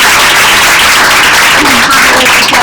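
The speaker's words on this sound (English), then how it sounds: "I'm clapping for you all" Applause at a team meeting, loud and close, with a crowd clapping steadily over the whole stretch while voices mingle in the background.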